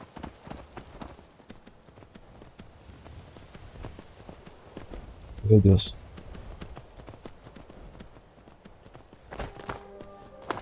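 In the video game Skyrim, a horse's hooves clip-clop steadily at a moderate pace, fairly faint and close. Someone talks over them and gives a brief louder exclamation partway through.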